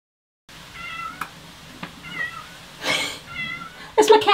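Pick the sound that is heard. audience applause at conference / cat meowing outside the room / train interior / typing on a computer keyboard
cat meowing outside the room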